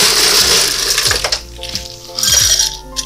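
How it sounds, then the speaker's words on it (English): Ice cubes pour into a cocktail mixing glass in two loud bursts of rattling, clinking cubes, close up and without talk. "We are going to fill up our mixing glass with ice almost all the way to the top"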